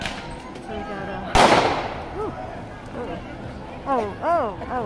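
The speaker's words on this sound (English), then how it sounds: "Oh, firework." A single sharp firework bang goes off outdoors at a street protest in Seattle, with a loud crackling burst that fades out. Crowd voices and shouting continue around it.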